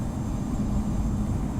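A Southwest airliner passes in a flight simulator game, heard as a steady low engine drone with a faint hum, constant level and no voices.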